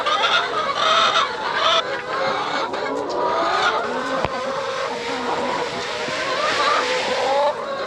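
Chickens cluck continuously in a farmyard, several birds layered with rising and falling calls, fairly close and loud, with little talking.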